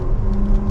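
A 2024 Lexus TX350 AWD Luxury accelerating on the road, heard from inside as a brief, loud, steady engine rumble with no voices.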